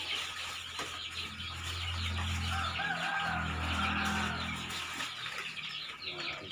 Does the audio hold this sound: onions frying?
no